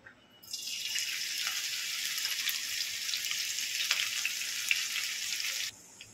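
Green chillies dropped into hot oil in a kadai for a potato filling, giving a sudden burst of steady hissing sizzle that holds for about five seconds and then cuts off, close up and with no speech.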